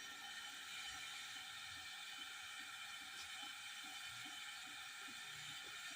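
A batter-dipped cheesy tikki burger patty deep-fries in hot oil, making a steady, dense hiss with soft crackling bubbles underneath. The sound holds constant and moderately loud throughout.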